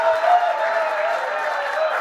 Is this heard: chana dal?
no